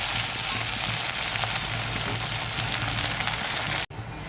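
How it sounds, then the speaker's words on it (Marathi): Chopped onion with fresh ginger garlic paste sautéing in a pan, a loud, dense, steady sizzle heard close up, cutting out abruptly near the end before resuming. "त्याचाही कच्चेपणा जाईपर्यंत आपल्याला छान असं परतून घ्यायचं"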